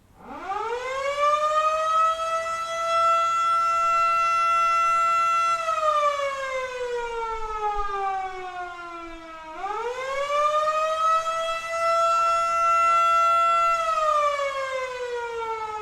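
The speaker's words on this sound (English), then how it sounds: "In 1951, a new siren was installed at the fire station, replacing the existing bell." A loud fire station siren wails steadily, holding a high tone before sliding down, then rising again for a second long, sustained cycle.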